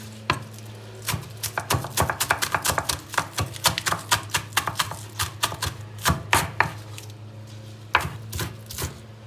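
A knife chops onions on a cutting board in quick, uneven bursts of crisp taps while kısır is prepared, close and clear, with a pause before a final few cuts; no speech.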